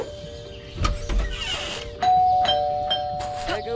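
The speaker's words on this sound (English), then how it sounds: "There goes that stupid bell again." A doorbell in the Scary Teacher 3D video game rings with a couple of clear chimes against steady game background sound.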